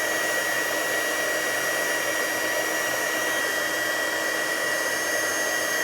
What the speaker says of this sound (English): I'm gonna take a heat gun and just pick it off